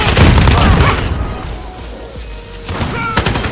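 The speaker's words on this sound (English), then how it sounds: "Throwing Assist grenade." A grenade blows up in a shooter video game amid battle noise: a loud broadband blast up front, a quieter rumbling stretch, then sharp crackling gunfire bursts toward the end.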